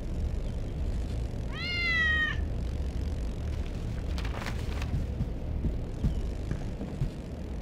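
A kitten in the Harry Potter and the Order of the Phoenix video game gives a single clear, rising meow over a low constant background rumble, followed by brief faint clatter.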